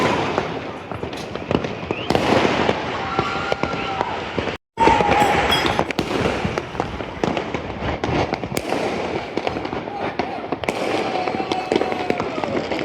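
Fireworks bursting over Bangalore during an RCB victory celebration, a dense run of loud cracks and booms, near and distant, with crowd noise and a brief voice beneath.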